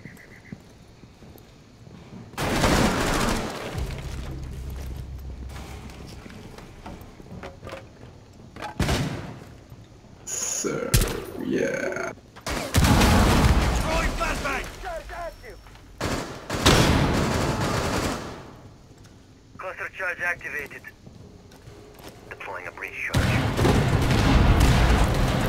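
Rapid gunfire cracks through a Rainbow Six Siege team deathmatch at Hereford Base in a series of loud bursts, with gaps of quieter game ambience between them.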